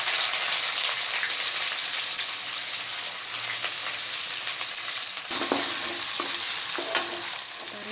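Onions and cumin frying in hot oil for an aloo beans masala, a bright continuous sizzle with stirring clicks, steady and near, easing slightly at the end, no voices.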